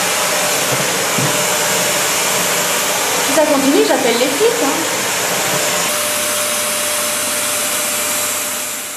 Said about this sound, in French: Ça, l'aspirateur, c'est un truc que j'ai trouvé en surfant sur internet.